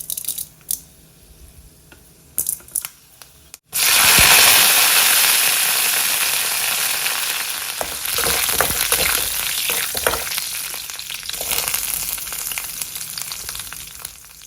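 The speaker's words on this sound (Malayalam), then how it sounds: "ഉലുവയാണ് പൊട്ടിക്കുന്നത്, കടുകൊന്നും കാച്ചില്ല കേട്ടോ." Fenugreek seeds spluttering in hot oil: a few soft knocks, then a sudden loud sizzle that keeps crackling and popping at close range and slowly eases.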